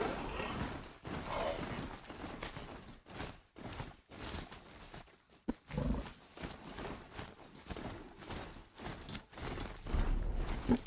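Horse hooves in the video game Horizon Zero Dawn, a fairly quiet run of rhythmic clip-clopping beats, irregular at times, with a faint voice over part of it.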